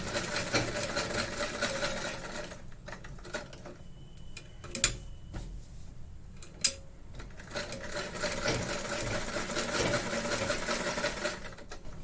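A sewing machine runs stitching cloth in a steady mechanical whir, pausing briefly in the middle with a couple of sharp clicks before the stitching resumes at full speed.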